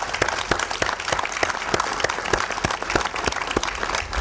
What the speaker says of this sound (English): quick round of applause for all those that put their hard work into this